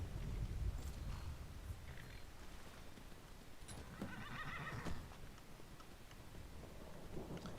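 A horse neighs and whinnies over hooves clip-clopping in Skyrim Anniversary Edition, with a soft ambient wash behind it and no talking.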